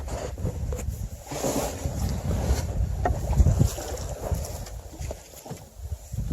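Strong wind buffets the microphone while a canoe paddles downstream on a creek in northern Alberta during spring runoff, a loud steady rumble with gusting surges and faint water sounds underneath.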